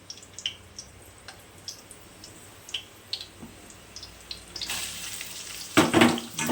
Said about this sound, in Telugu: నూనె కాలినాక ఉల్లిగడ్డలు వేసుకోవాలి.